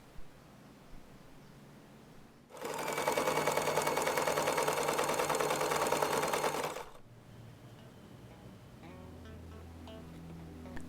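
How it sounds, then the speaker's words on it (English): A sewing machine runs steadily for about four seconds, stitching closed the opening in a pouch's lining fabric, a close, even whir between quieter handling noise. "For a quick finish, sew the opening in the lining fabric,"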